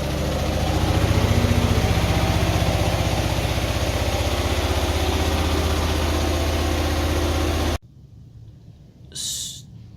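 A Hyosung Comet GT250 motorcycle engine idles steadily off choke, a loud close low rumble that cuts off abruptly near the end, leaving quiet room sound and a brief faint noise.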